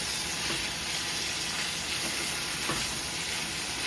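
Sweet peppers stir-frying in a hot pan give a dense, continuous sizzle with scraping stirs, steady and close throughout, no talk.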